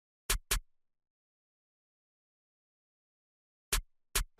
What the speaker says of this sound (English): I got this snare.